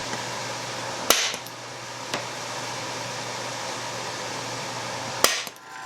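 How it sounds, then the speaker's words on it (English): Hot stamping a maker's mark into a forged Damascus chef knife blade with a 4-pound cross peen hammer: three sharp metallic strikes spaced seconds apart over a steady forge or fan hum. "I'll stamp it with my maker's mark"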